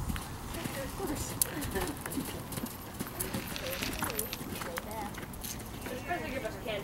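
Rapid, steady hoofbeats clatter close by over a busy outdoor background, with people talking throughout.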